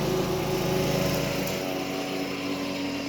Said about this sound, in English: Sorry about the lawnmower.